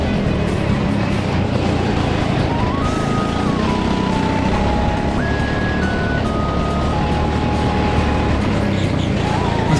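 Racing car engine in a racing video game, a steady loud drone with rising and falling pitch as gears shift, heard alone with no talking.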